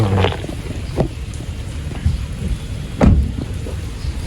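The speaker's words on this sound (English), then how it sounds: "it's kind of raining" Steady rain patters outdoors, with a few brief thumps and gusts over the constant wash of drops.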